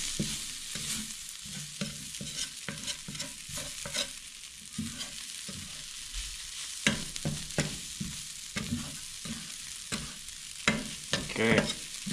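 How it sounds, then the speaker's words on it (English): Flour stirred into fat in a skillet to brown, a soft sizzle under repeated scraping and stirring strokes, close and fairly quiet, no voices. "Roll it around, let that flour brown a bit."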